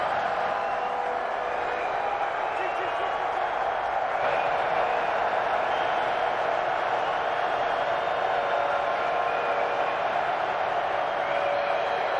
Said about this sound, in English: as you can hear, this crowd is rocking already